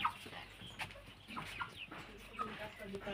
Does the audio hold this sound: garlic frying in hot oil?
no